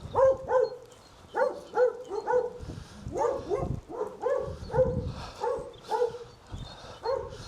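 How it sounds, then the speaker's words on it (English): Several big Doberman dogs barking in repeated deep bursts behind a house gate, close and loud, with short pauses between volleys. "I think there were 3 or 4 Dobermans"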